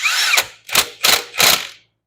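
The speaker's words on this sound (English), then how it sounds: "So I just hammered it down, and it'll be good with my impact gun." An impact gun tightens the crankshaft pulley bolt on a 2005 Toyota Camry four-cylinder, firing four loud, close hammering bursts of about a quarter second each in quick succession before stopping.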